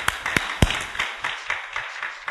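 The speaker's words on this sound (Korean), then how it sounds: "우리 하나님 앞에 할렐루야로 감사의 박수를 올려드려야 됩니다." A church congregation clapping in thanks during a service, a steady brisk rhythm of claps over about two seconds, heard from within the room.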